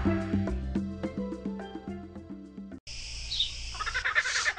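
A cheerful tonal musical jingle gives way to a bright, chattering bird call in the educational children's game Monkey Preschool Animals, clear and upfront.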